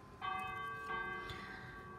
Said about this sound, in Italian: Le campane, bene.